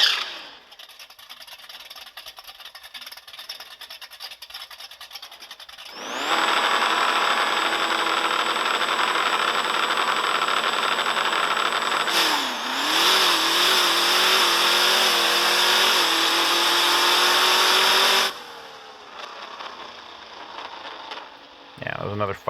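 A Dodge RAM pickup on a timed acceleration run, its engine idling quietly before roaring up through the gears in long rising revs with brief dips at each shift, then cutting back to a low idle near the end.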